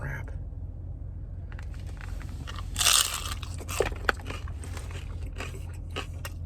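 Someone bites into a crunchy taco, giving a sharp crackling crunch followed by a few smaller crisp cracks as they chew, close to the microphone over a steady low background rumble.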